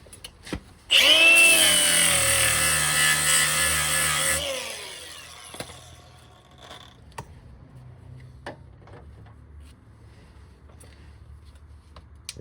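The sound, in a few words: flap wheel grinding rust off a Jeep frame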